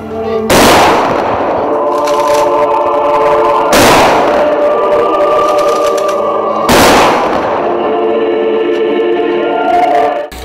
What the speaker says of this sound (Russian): В завершении прозвучал трехкратный ружейный залп военного салюта.